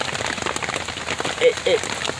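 Rain pours onto a Quest four-person tent, a dense steady patter close by, with a person talking over it.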